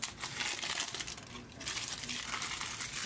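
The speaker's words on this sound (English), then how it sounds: "I'm going to use some blue painter's tape" Blue painter's tape crinkles and rustles as it is handled up close, a continuous faint crackling with a brief pause midway before the handling resumes.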